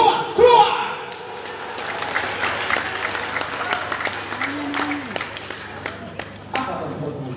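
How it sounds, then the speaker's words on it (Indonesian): Scattered clapping from a church congregation at a Papuan worship rally, moderately loud and uneven, with a preacher's voice and other sounds mixed in over it. "Apa kau tepuk tangan?"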